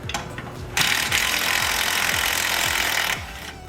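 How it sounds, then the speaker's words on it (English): A tool works loose a sway bar link on the front suspension of a BMW E46 330ci ZHP: a sustained, loud, close mechanical whirring burst with rapid clicking, framed by quieter tool handling. "we're going to remove the sway bar link now"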